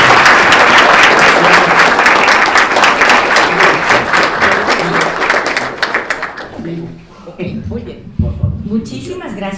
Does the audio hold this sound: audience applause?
yes